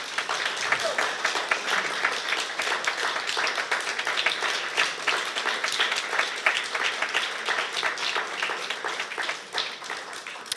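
A festival audience applauds in a steady, dense wash of many hands clapping, sustained for several seconds at moderate loudness with a voice faintly present.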